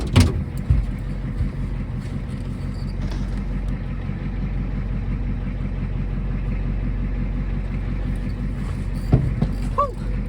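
An 80s Ford F250 diesel farm truck, a manual, runs and drives with a steady, loud low diesel clatter and rumble throughout, a couple of sharp knocks at the start and near the end, and brief faint talk.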